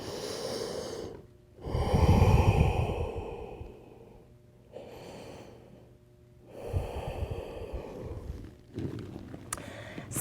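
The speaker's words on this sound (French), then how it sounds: "on respire encore 2 fois" Deep breaths during an intermediate yoga class: several long, audible inhales and exhales, heavy and close, separated by short pauses, with no talking.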